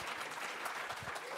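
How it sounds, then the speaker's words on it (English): A conference audience at a library technology event claps for a speaker, a brief burst of dense, steady applause heard from within the room, fairly quiet overall. "Give big claps."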